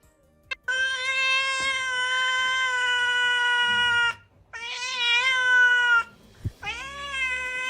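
An angry cat yowls in three long, drawn-out meows, loud and close, separated by short pauses, the last one rising as it starts.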